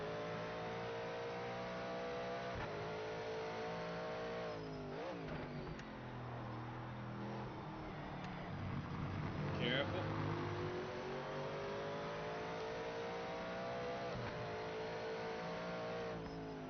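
A powerful race car engine in Project Motor Racing holds a sustained droning roar with rising revs and a gear change midway, while a voice talks over it.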